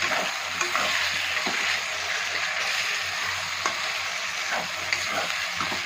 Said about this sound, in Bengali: ক্যাপসিকাম ভাজাগুলো আমি দিয়ে দিচ্ছি। ভালো করে একটু ভেজে নেবেন ভাজার সময়।